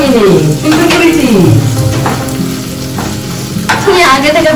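Paneer pieces sizzle loudly in a hot pan with a little oil while being stirred, a continuous close crackle with scraping strokes of the spatula and occasional clinks against the pan.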